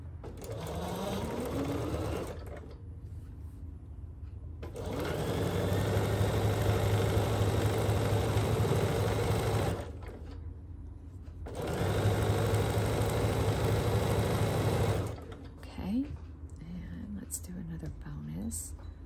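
A sewing machine stitches quilt pieces together in two long, steady whirring runs separated by short pauses, with someone talking quietly around the stitching.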